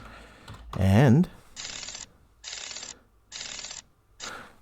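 A computer keyboard being typed on in four short, even bursts of rapid key clicks, each roughly half a second long and separated by brief pauses, after someone speaks a word.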